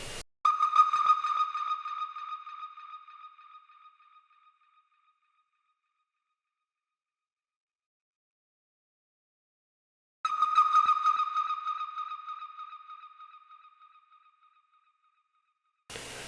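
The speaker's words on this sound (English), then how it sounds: "the only other thing I added to it was the hidden bird sound" A bird sound effect sample in an instrumental track sounds twice as a sustained whistling, sonar-like tone that rings and slowly decays over about four seconds each time, separated by silence.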